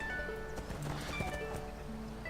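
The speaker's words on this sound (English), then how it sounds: "One of them seems to be on a cat mount, the other one's on a traditional horse" Horses ridden by players in the video game ArcheAge, circling round and round, give off rhythmic hoof clip-clops, a quick continuous patter of fairly distinct steps over a faint background hum.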